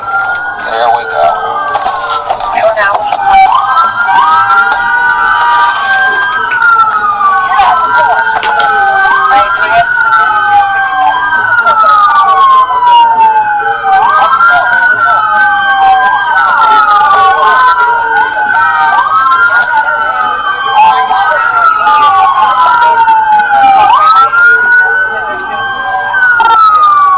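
Police vehicle sirens wail continuously at a roadblock, several overlapping rising and falling tones repeating in a steady cycle, loud and close throughout.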